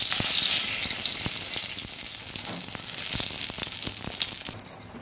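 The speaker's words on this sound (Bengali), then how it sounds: "কড়াইতে তেল দিয়েছি, দিয়ে দিচ্ছি একটা শুকনো লঙ্কা" A dried red chili and a bay leaf frying in oil in a kadai sizzle steadily with a bright hiss and scattered crackling pops, close by, easing slightly near the end.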